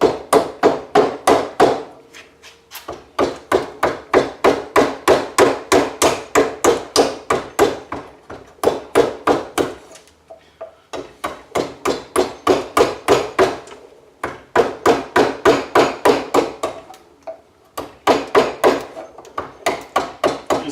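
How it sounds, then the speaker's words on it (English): A mallet strikes a chisel into wood while shaping a model boat hull, giving a long series of sharp, rhythmic knocks in bursts with short pauses, close and alone. "So it's back to chiseling."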